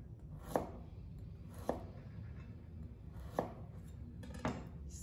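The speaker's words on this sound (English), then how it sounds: "chopping off the top and the bottom, getting the flat side on the cutting board" A knife chops down through small beets on a cutting board in four sharp, separate strikes, spaced a second or so apart, against a quiet background.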